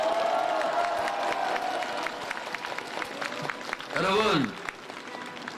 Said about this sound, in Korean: 격려의 의미로 박수 한번 보내주십시오